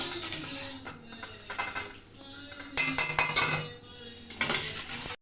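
Fried vegetables lifted and drained from a pan with a metal utensil, giving sharp repeated clinks and scrapes in short clustered bursts, close and fairly loud.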